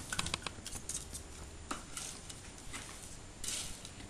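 Quick snipping of scissors cutting through wet wipes, a few crisp cuts in bursts with quiet pauses between, close by.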